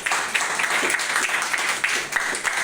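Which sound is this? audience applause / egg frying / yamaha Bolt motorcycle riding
audience applause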